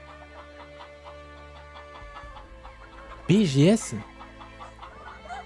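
Chickens clucking at a chicken farm in the video game Laysara: Summit Kingdom, repeated soft clucks over steady game ambience, with one louder, rising squawk near the end and someone talking briefly.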